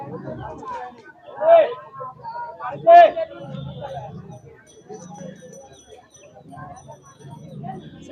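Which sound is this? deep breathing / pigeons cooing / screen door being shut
pigeons cooing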